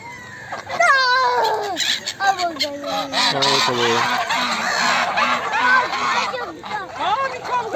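A flock of ducks quacks and honks loudly and continuously at a pond, with overlapping calls close by and a voice mixed in.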